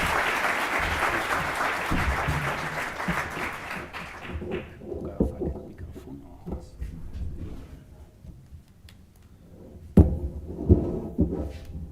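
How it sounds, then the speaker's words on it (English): An audience at a deep learning symposium in Barcelona applauding a speaker, dense clapping for about four seconds that fades into scattered claps, then room noise and a few knocks and thuds. "A big applause for Fernando."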